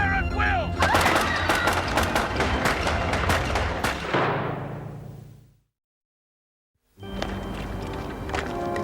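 Rapid gunfire rattles in a dense, loud barrage of overlapping shots in a prison drama scene. It thins and fades out into a moment of silence, then a noisy burst resumes.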